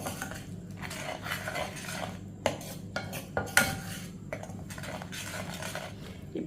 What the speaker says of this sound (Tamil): இது எல்லாத்தையும் நல்லா மிக்ஸ் பண்ணிக்கிடுவோம்